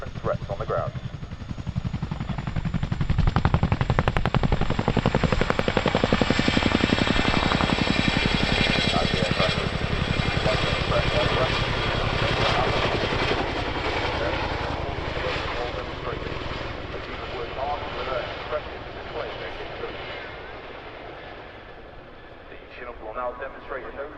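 A Chinook helicopter with twin 5,000 horsepower Honeywell engines makes a fast departure at an airshow, heavy rotor thrum building loud then fading gradually into the distance over about twenty seconds, with a commentator talking over it.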